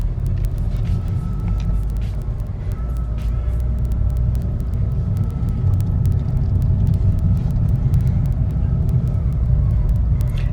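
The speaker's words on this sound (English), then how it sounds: "you give it a little bit of gas, and then you set off and let go of the clutch" A manual stick-shift car pulls away and drives on, its engine a steady low rumble that holds loud and close for the whole stretch, with a few faint clicks and rattles riding over it.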